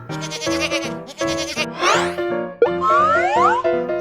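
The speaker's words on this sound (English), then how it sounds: "This is a goat." A goat bleats repeatedly up close, a series of loud, quavering calls broken by brief gaps, some rising and sliding in pitch, with no talk over it.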